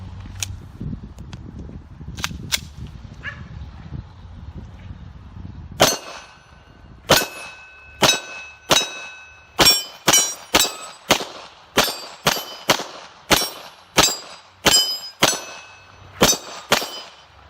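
Glock 34 pistol with factory barrel firing Acme 124-grain round-nose 9mm bullets: after a few faint clicks, a rapid string of about fifteen loud, sharp, ringing shots follows in quick succession.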